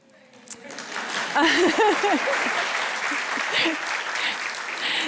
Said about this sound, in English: It was a clap of appreciation.